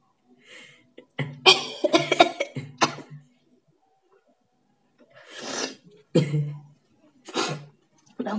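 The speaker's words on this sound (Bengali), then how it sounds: "আমার তো শুধু কাশি আসছে।" A woman coughs hard from chili during a sneezing challenge, with several close harsh bursts separated by quiet pauses and a little throat clearing.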